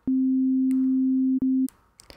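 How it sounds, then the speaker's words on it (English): Clipped sine wave tone played in a digital audio workstation, a loud steady buzzy hum lasting over a second, a brief break, then a shorter burst before it cuts off. "when you clip a sine wave, all of the amplitude values above the threshold of clipping, or 0 decibels, will get flattened out"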